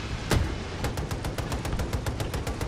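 Rapid automatic gunfire from a gun in Battlefield 2042: a single sharp shot, then a fast, steady string of loud, close bursts over a low rumbling background.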